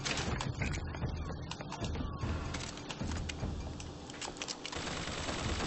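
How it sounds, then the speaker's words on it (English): Automated turret in Bioshock Infinite firing rapid bursts at an enemy, a rattling stream of gunfire with alarm-like tones amid busy game combat noise. "That way I have the turret help shoot the guy."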